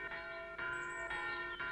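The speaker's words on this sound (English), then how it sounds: "There goes the school bell." A school bell in a herb garden rings in four evenly spaced bright, sustained strokes, each one ringing on into the next, heard alone and fairly close.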